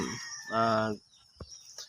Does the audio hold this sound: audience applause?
no